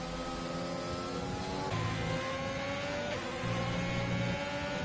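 Race car engines in a racing game at Austria, an Audi pulling alongside and overtaking another car, steady droning whine with rising pitch sweeps and shifts as cars pass side by side, fairly loud and continuous.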